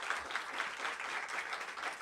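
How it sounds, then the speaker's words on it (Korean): An audience at a 2023 Europe field study report meeting applauds guests being introduced, a soft, fairly distant patter of clapping that stays even through a brief moment. "네, 박수 부탁드리겠습니다."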